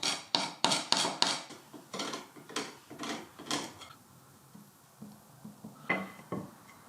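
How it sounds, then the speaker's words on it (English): Scraping old glue off a wooden furniture frame salvaged from a bin: a run of sharp, rhythmic scrapes and knocks of a tool against wood, close and distinct, easing into quieter, sparser strokes. "It's important to scrape off all the old glue so that the new glue can adhere properly."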